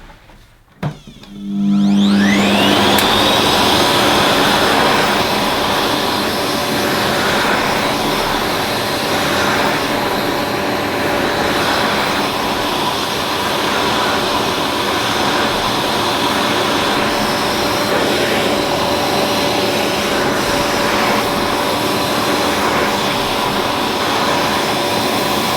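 A Ufesa Zelmer 4 in 1 multifunction cylinder vacuum cleaner switches on with a click and a rising whine, then runs loudly and steadily while its nozzle is pushed across carpet.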